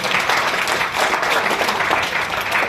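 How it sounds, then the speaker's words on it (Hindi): Seminar audience clapping together in a dense, sustained burst of applause that carries evenly from start to finish, fairly loud and close, with no talk over it. "थोड़ा सा एक बार तालियां मार रहे"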